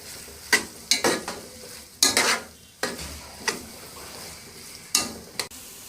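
A spoon scrapes and stirs carrot halwa frying in ghee with khoya, cashews and pistachios, giving sharp repeated clatters at an irregular rhythm over a soft sizzle, close and fairly loud, with no one speaking.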